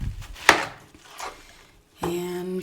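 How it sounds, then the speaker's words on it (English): Onions chopped with a knife on a board in a small Mexican town kitchen, a few separate sharp cuts with quiet gaps, the last followed by a short clatter. "we are gonna be chopping some onions"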